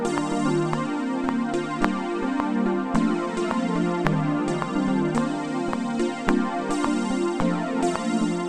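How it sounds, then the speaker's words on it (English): A synth preset called Annabelle in Pigments plays a smooth R&B melody, with sustained chords and plucked notes falling in a steady rhythm, loud and close with no voices. "I'm going to be using this sound inside Pigments called Annabelle."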